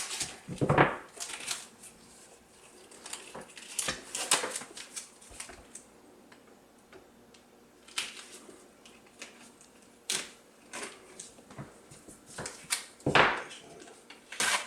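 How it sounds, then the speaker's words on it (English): Blue tape is pulled off the roll and pressed down to hold a stencil on a knife blade, giving scattered crackles, rips and rustles at close range with quiet pauses between them. "And then I'll tape it down with some blue tape."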